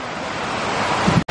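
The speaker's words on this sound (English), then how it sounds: "My favorite fountain ever." Fountain water splashing at Epcot, a steady, close rush of broad noise that cuts off abruptly at the end.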